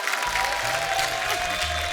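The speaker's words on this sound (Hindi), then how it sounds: "जोरदार तालियां सुरेश पाजी और प्रियंका भाभी के लिए" A studio audience at a Hindi comedy talk show claps to welcome guests. The brief burst of applause is fairly loud, with a low musical tone running underneath throughout.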